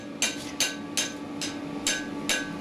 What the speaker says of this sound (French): c'est des petits coups de marteau, mais avec précision